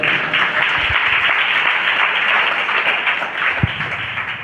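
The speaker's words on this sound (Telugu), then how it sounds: "చప్పట్లు కొడతారా గట్టిగా?" A crowd at a religious gathering breaks into sustained loud applause, dense clapping holding steady throughout with a couple of sharp thumps near the mic.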